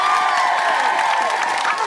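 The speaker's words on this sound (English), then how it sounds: "A big round of applause for Ellen Jones." Live comedy podcast audience cheering and clapping, a loud burst of whoops and shouting over applause, close and energetic, fading slightly toward the end.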